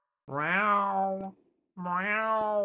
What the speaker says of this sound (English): Doesn't this sound like a cat wailing?